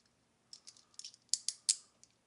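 Cheap police-style handcuffs ratchet shut in a quick series of sharp metallic clicks, starting light and growing louder toward the end, close and alone with no talking.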